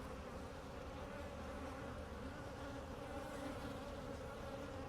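Honey bees in a strong, fast-growing hive hum in a dense, steady buzz, close and continuous with no pauses, and no one talks.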